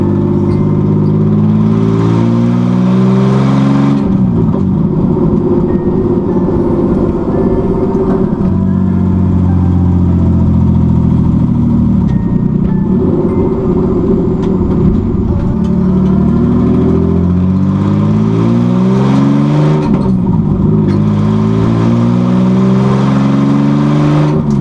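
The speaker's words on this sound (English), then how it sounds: "We're gonna run the engine up here, go for a test drive and see what it goes like" BMW E46 drift car engine revving hard on a test drive, loud rising and falling pulls through repeated gear changes, continuous and close with no talk.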